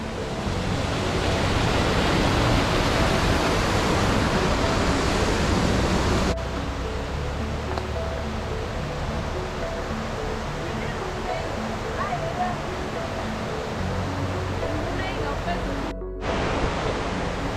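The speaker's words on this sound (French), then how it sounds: "La première grosse cascade." A large waterfall in the Gorges du Bruyant in the Vercors pours as a steady, loud, broadband roar that fills the whole scene. It eases slightly partway through but keeps going without a break.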